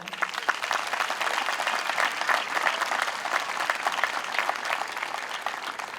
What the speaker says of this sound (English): Let's give one more big round of applause to those here tonight supporting you.